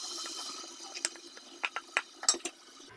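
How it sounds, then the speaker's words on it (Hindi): Potatoes are tipped into cooking masala in a pan, giving a short run of light clinks, taps and soft sizzling clatter near the microphone, with no talk. "अब मैं इसमें जो आलू रखे हुए थे वो डाल रही हूँ"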